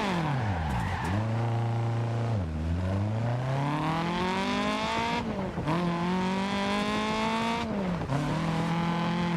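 Rally car in a racing video game skidding hard, engine whining and swooping up and down in pitch with tire squeal, loud and continuous throughout, with no talk over it.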